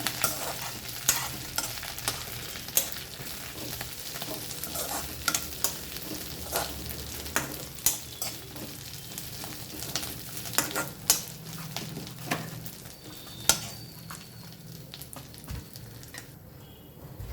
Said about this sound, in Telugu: ఇదైతే ఇంకొక టూ మినిట్స్ అయితే వేగిపోతుంది